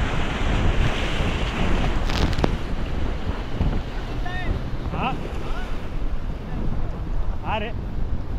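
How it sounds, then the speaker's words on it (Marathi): Rough sea water slaps and washes against a small fishing boat off Mumbai, with strong wind buffeting the microphone throughout and brief voices and calls over the churning waves. "बघू शकता किती रफ आहे पाणी"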